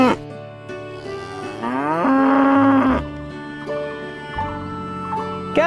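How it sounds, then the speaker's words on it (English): Black-and-white cow mooing, several drawn-out lowing calls with rising and falling pitch, loud and close, one long moo in the middle standing out, no talk. "Wow, cow. White and black color cow."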